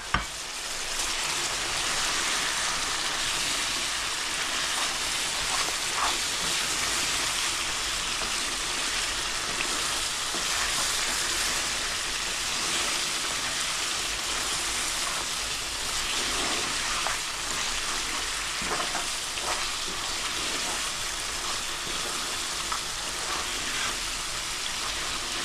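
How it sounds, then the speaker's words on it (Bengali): Spices for a kohlrabi curry, including Kashmiri chili, fry in a pan with a dense, steady, rain-like sizzle that holds evenly throughout, joined by occasional faint stirring scrapes. "এটাকে ভালোভাবে কষিয়ে নিচ্ছি, মশলার গন্ধটা হয়ে যাবে"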